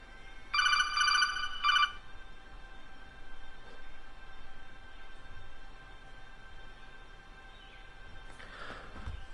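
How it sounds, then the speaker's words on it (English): A telephone ringtone sounds in two short bursts of bright electronic ringing early on, then the room settles into quiet background hiss with a faint noise near the end. "Oh, sorry, phone again."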